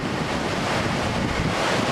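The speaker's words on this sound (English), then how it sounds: "That constant sound of rushing water the whole way." A river rushes through Crazy Woman Canyon in Wyoming, its broad, constant roar steady and loud with wind buffeting the microphone.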